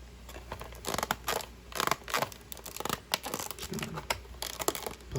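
Cardboard and paper being pried open and crinkled while unboxing a Gemini Jets 1/400 scale Southwest 737-700 model airplane, a series of close, irregular tearing and rustling bursts with short pauses, no talk.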